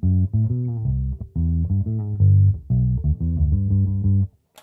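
Bass guitar playing a short line with no filter pedal engaged, dry and close, with separate phrases of plucked notes and brief gaps between them.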